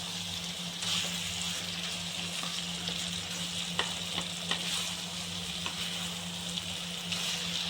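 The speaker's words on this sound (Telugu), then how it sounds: "ఇది ఇంకా బాగా ఎర్రగా రోస్ట్ అవ్వాలి ఫ్రెండ్స్, ఈ కాకరకాయ అనేది." Bitter gourd with tomato frying in a pan, a steady close sizzle with occasional soft scraping taps as it is stirred, no voices.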